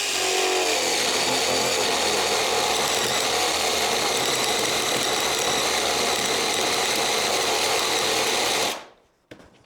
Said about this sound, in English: 1¼ inch spade bit.